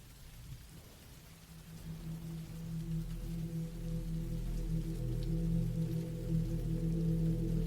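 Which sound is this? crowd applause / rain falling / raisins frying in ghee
rain falling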